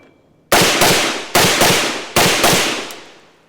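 A SIG MCX Rattler compact .300 Blackout PDW fires four supersonic rounds in quick succession, each a loud, sharp crack with a decaying tail, nearly evenly spaced, close by and without talk.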